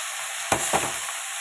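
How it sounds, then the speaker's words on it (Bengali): Leafy greens (shak) fry in a pan with garlic, green chillies and dried chillies, giving a loud, continuous sizzle. Two brief bursts come as the greens are tipped in and stirred. "এবার এই যে ঢেলে দিচ্ছি শাকটা"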